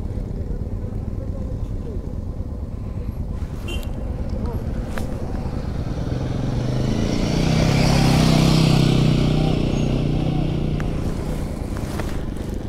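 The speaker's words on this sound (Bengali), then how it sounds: "আমি নর্থ বেঙ্গলের পাহাড়ে প্রথমবার বাইক নিয়ে এসেছি" A motorcycle rides a rough mountain road in the hills of North Bengal toward Dawaipani, its engine a steady close drone mixed with wind rush that swells louder midway before easing back.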